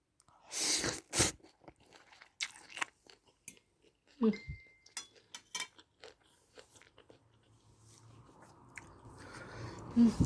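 Crunchy chewing of chili peppers in a spicy Thai tuna glass noodle salad, close to the mic in repeated wet crunching bites spread across the clip, with a brief voice sound midway and a faint steady hum toward the end.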